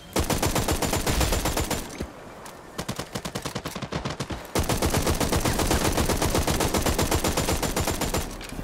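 Rapid automatic gunfire rattles loud and close in a video game, long sustained bursts broken by a short gap of slower single shots before the firing resumes.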